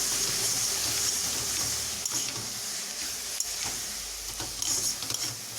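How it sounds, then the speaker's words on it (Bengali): A spoon stirring ash gourd and coconut sweet in a pan, a steady sizzling hiss with soft scraping strokes throughout, close and continuous with no talking. "এবার আরেকবার নেড়ে নিচ্ছি।"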